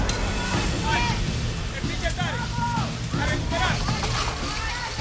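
Strong wind buffets the microphone in a continuous roar during a Survivor team challenge, while voices call out over it and water sloshes nearby.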